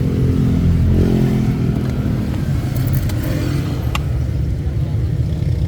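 A Mitsubishi Adventure diesel engine with a hard-start problem cranks in a loud, continuous low rumble close by, with a voice present.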